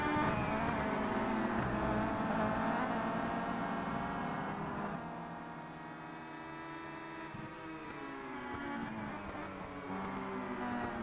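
BMW touring car engines in a Simraceway WTCC race heading toward Graham Hill Bend, droning with shifting pitch and steady loud hum, no talk heard over them.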